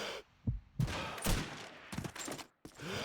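Gunfire from a Call of Duty 2 match comes as several sharp bursts of shots with short gaps between them, moderately loud, with a faint voice in the background.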